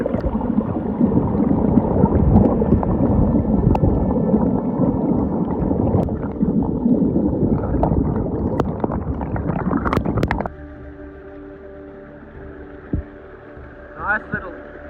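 A forest waterfall pours and splashes right over a camera, a loud churning, gurgling rush that cuts out after about ten seconds and leaves a quieter stretch with brief sounds.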